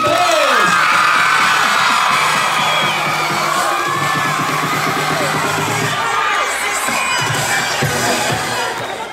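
A school crowd at an intramural games torch ceremony cheers loudly with children shouting and whooping, a dense, sustained roar that slowly eases near the end.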